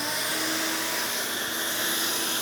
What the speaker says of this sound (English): Vacuum on,